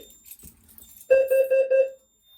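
A Notifier NFS2-640 fire alarm system sounds its carbon monoxide alarm: a few soft clicks, then a bright electronic tone pulsing in four quick beats before stopping.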